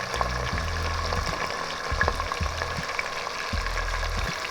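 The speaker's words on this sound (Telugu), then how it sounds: "ఇప్పుడు ఆనియన్స్ బాగా వేపుకుందామండి. ఎర్రగా వచ్చేదాకా వేపుకుందామండి." Onions and green chillies frying in a pan for vegetable pulao, a steady close sizzle broken by several bursts of stirring and scraping, with no voices.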